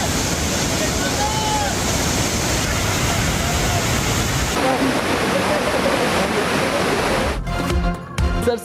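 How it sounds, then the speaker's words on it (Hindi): Clear water cascading down from green mountains at Gokhan in Buner, a steady, loud broadband rush that continues throughout before cutting to a brief burst of unrelated noise at the end. "सरसब्ज पहाड़ों से शफाफ पानी के बहते झरने"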